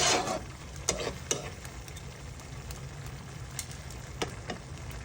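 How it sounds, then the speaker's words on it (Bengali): Pumpkin curry being stirred in a pan: a soft sizzle under a few quiet scrapes and knocks of a spoon, with a brief louder burst at the start. "এবার বন্ধুরা আমি নেড়ে ছেড়ে দিব"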